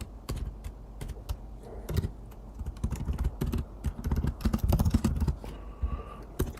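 Rapid, uneven bursts of typing on a computer keyboard, with sharp close key clicks in quick runs and brief pauses between them, heard alone.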